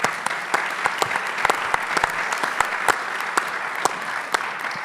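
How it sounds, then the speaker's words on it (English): Audience applauding a volunteer at an author talk, a steady wash of clapping with sharp individual claps popping out, holding at an even level throughout with no talk. "So give him another hand of applause"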